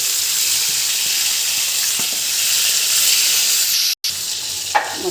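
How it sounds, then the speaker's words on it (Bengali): Tilapia fillets frying in hot oil in a frying pan give a loud, steady sizzle with a crackling hiss that holds throughout, broken by a brief pause near the end, with no talking. "মাছটাকে ভেজে নিচ্ছি। ফ্রাই প্যানটা যখন গরম হবে তেলাপিয়া তেল দিয়ে মাছটাকে ভেজে নেবেন।"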